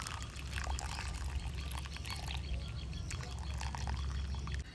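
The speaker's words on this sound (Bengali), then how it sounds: "ছাঁকুনি নিয়েছি, এইভাবে ছেঁকে নেব।" Boiled herbal shampoo water pours steadily through a strainer, a continuous close splashing trickle that runs for several seconds without a break, with no talking.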